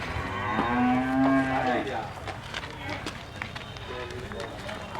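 At the weekly cattle market in Karimangalam, Dharmapuri district, where many of the cows are pregnant, one cow lets out a loud, drawn-out moo close by. Crowd noise and voices fill the background around it.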